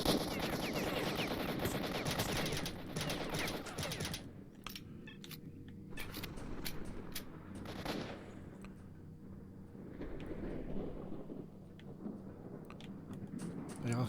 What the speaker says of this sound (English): Let's do a bit of pistol shooting.